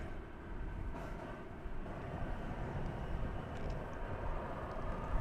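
American Airlines flight 1331 taking off at DFW Airport, a deep, continuous roar of jet engines that builds steadily, heard from a distance with no voices.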